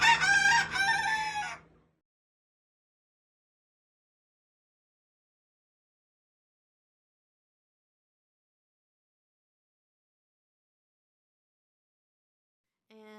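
A single loud rooster crow rings out at the start on a homestead with 16 chickens, then a long silence follows, with a faint trace of another call at the very end.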